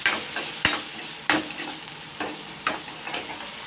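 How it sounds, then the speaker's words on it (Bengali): Onion, tomato, chilli powder, salt, sugar and turmeric stirred in a pan, a utensil scraping in a few distinct strokes about every second over a soft sizzle, close and clear with no talking. "একটু হালকা নাড়াচাড়া করে নেবো।"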